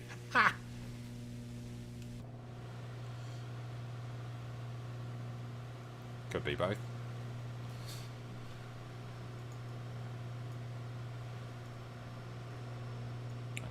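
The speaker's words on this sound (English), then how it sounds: "in the cockpit it sounds like someone is having fun with the vacuum cleaner next to me" In MS Flight Simulator, an aircraft engine drones with a low, steady, vacuum-cleaner-like hum in the cockpit. It sits quietly beneath a few brief spoken words.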